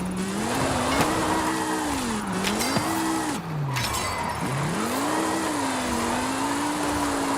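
A BMW M2 drifts in Forza Horizon 5, its engine note rising and falling in long revving sweeps while the tires squeal and skid continuously, loud and close, with no voices.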